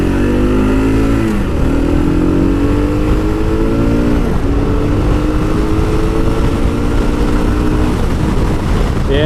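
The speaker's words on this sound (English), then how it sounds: "All righty, here we go. 2015 KLR 650." A 2015 Kawasaki KLR 650 dual-purpose motorcycle is ridden with the engine heard up close, loud and continuous. Revs rise through the gears, with pitch climbing and dropping at each shift.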